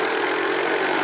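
A steady, loud motorcycle engine drone from the video game Lara Croft: Relic Run, holding one even pitch without pauses or voices.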